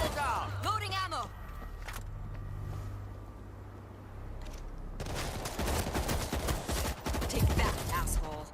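Dense rapid gunfire bursts and combat noise from the World War Z video game, a sustained chatter of shots growing busier in the second half, with voices talking over it.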